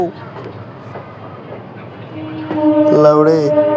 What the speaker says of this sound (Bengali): চলো, ট্রেন ছেড়ে দিয়েছে, চলো